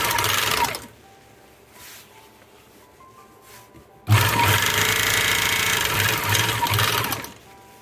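A Zoje bag-closing sewing machine stitching: a loud fast mechanical whir runs briefly, stops for a few seconds of quiet, then starts again and runs steadily for about three seconds before cutting off.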